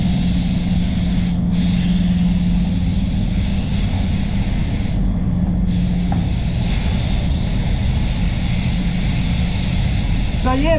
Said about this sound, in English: the GPG, I've actually been using it quite a bit for clear coat lately